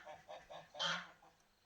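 Geese honk in a quick run of faint calls, a few short honks followed by one louder, longer honk, then fading, with no voices present.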